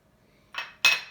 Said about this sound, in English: I'm going to give it another little stir